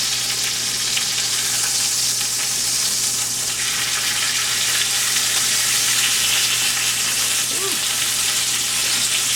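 Chicken leg quarters sizzle and pop steadily in hot fat, a dense continuous frying hiss with small crackles throughout, close and fairly loud with no talking.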